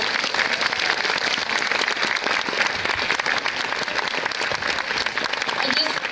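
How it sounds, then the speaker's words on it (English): An audience gives the panel at an art event a round of applause, a continuous, fairly loud wash of many hands clapping that holds for about six seconds, with murmured voices mixed in. "So let's give a round of applause for the panel."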